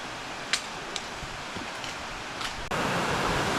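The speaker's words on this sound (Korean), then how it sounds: "저기에 폭포 있네." Waterfall along a rainy Seoraksan mountain trail, a hissing broadband rush that grows louder and steadier partway through, with a few soft scuffs and taps near the start.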